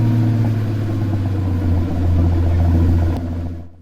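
A Pagani Utopia engine in a racing video game, a steady low rumbling drone that swells slightly before fading out at the end.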